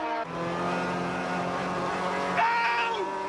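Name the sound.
race cars including an Opel GSI racing on a circuit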